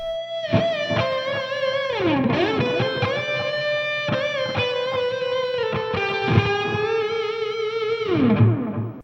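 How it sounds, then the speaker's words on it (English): A distorted electric guitar plays a bluesy lick with sweeping string bends, including a half-step bend into a high F, and long sustained notes, loud and up close. "half-step bend into that high F, sustaining it until it almost breaks your heart"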